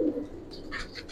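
A fancy pigeon coos softly and briefly amid light background noise, a low throaty call followed by faint higher chirps.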